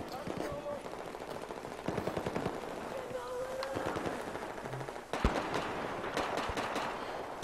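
Rapid automatic gunfire from the video game Battlefield 4 on Xbox One crackles in short bursts and single shots, with a player talking over some of it.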